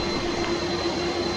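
A Boeing 747 jet at Taipei Taoyuan Airport gives a loud, steady engine roar with a constant high whine, unbroken throughout and with no voices.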